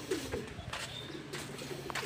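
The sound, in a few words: pigeon cooing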